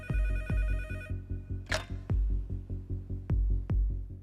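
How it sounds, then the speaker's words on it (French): Telephone ringing in a tense moment during an attack, a steady repeating electronic ring pattern with regular pulses, fairly loud and alone, with a brief sharp noise partway through. "90 minutes après le début des attaques, le téléphone sonne enfin."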